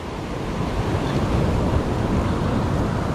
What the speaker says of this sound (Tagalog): Grabe alon eh.